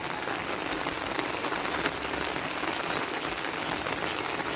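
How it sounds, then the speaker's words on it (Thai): Steady, dense rain falls on surfaces at night during a frog-hunting outing, a continuous close hiss of drops with no talking. "เสียงฝน"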